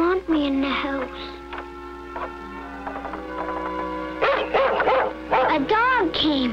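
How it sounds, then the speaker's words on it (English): A dog barks and yips in a 1951 16mm educational film, several sharp barks and whimpering yelps in uneven bursts, loud and close, with some vocal tones mixed in. "A dog came."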